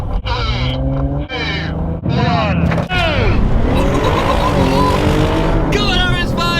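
An Audi RS5 and an Audi RS7 launch side by side in a drag race, engines roaring loud and close as their pitch climbs through several gear changes before settling into a sustained high-revving howl.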